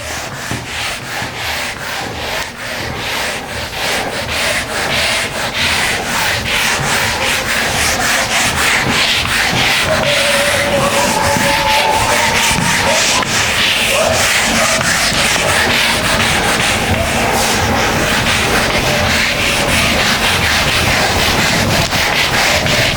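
Steady rubbing of an eraser across a classroom writing board, a continuous dry scrubbing swish lasting throughout, close and fairly loud with no talk over it.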